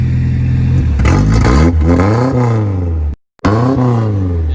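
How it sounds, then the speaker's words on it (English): Ford F250 pickup truck engine revved hard up close, a loud roaring climb in pitch that falls back, then a brief cut and a second rising rev. "Give us one good rev."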